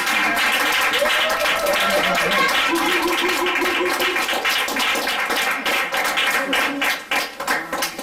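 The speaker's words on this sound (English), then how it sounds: "give a round of applause for all the poets who have performed" A large audience applauds the poets who have performed, a dense, steady roar of many hands clapping that carries on for several seconds, then thins and becomes patchier toward the end.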